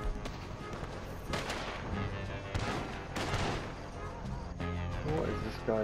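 Rifle gunfire in an online shooter game, with several sharp shots spread through the clip and other game noise and a player's voice underneath.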